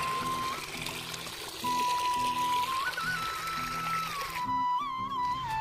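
Irrigation water flows and pours into a farm field in a village, a continuous splashing gush running under steady background music.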